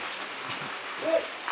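Steady rain falls outdoors, a continuous soft hiss of drops on surfaces, fairly faint and even, with a brief faint voice-like tone partway through.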